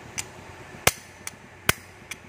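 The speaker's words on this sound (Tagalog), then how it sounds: "Gamitan mo ng martilyo" A hammer strikes brake parts on a Honda XRM110 motorcycle, with five sharp metallic blows at uneven intervals, two of them loud and close and the rest lighter, with no talk.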